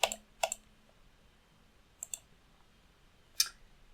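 Computer keyboard keys being typed while entering an RGB color code in QGIS, heard as a few quick clusters of sharp, close clicks separated by short pauses.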